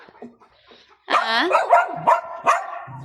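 A dog barks and yelps several times up close in an irregular burst of sharp, whiny barks, after a brief quiet start.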